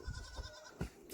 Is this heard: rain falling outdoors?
no